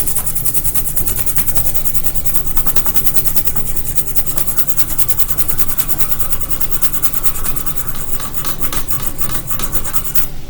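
A toothbrush scrubs rust off a switch-mode power supply circuit board, a steady, loud, close rasping rub with rapid back-and-forth strokes that continue without pause.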